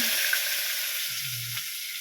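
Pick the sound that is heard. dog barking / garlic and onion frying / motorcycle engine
garlic and onion frying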